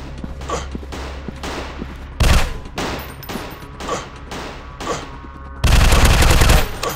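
Video game gunfire rattles in rapid bursts of shots, close and loud, with heavier blasts standing out near the start and end.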